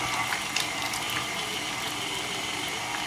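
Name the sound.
mixer with whisk attachment mixing on low speed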